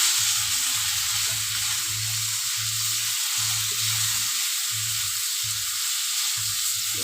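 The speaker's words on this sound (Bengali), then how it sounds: "দিয়ে আমি হালকা একটু ভেজে নেব।" Turmeric, salt and spices frying lightly in a pan, a steady close hiss of sizzling oil under a low rhythmic hum, with no voices.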